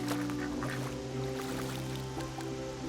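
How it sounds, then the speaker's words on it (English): Ducks call steadily in a flowing tufa wetland along a Croatian river, a dense, continuous chorus of nasal quacks and honks at moderate volume with no talking. "Not surprisingly, ducks inhabit the terrain."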